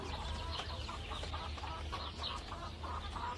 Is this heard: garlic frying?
no